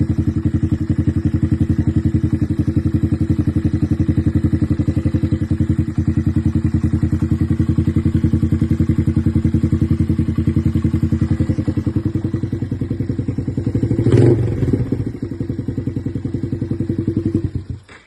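Motorcycle engine idling after an oil change, a loud steady close throb that runs evenly throughout, with a brief clatter and thump near the end before it cuts off.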